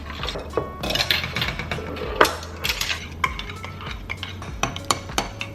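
A spoon stirring hot chocolate in a mug, rapid metallic clinks and scrapes against the sides, close and fairly loud, in an irregular rhythm.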